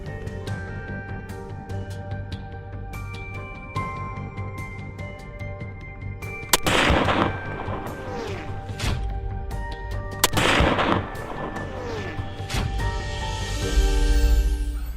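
Gunfire during a wild boar hunt, with two loud, sharp shots several seconds apart cutting through a steady outdoor background, plus a few lighter knocks and thumps in between.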